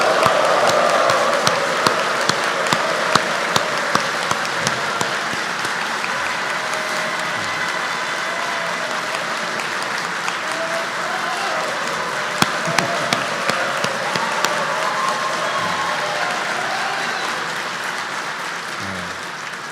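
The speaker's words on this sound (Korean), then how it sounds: "크게 박수와 환호 부탁합니다" A large crowd claps and cheers in a long, steady burst of applause that fills a hall, dense and loud throughout, with scattered sharper claps standing out.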